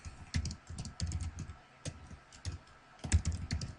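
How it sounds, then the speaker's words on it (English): Irregular bursts of clicky keystrokes on a computer keyboard, typed at a quick, uneven pace with short pauses between runs, close and fairly quiet, with no talking. "I'll just go ahead and continue typing all of these"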